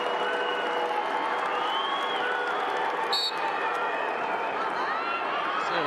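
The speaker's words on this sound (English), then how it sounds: "How about this massive crowd in the Dome today?" A large crowd of about 8,000 fills an indoor dome at a Syracuse versus Maryland college men's lacrosse game, producing a steady, loud roar of cheering and applause throughout, with voices mixed into the din.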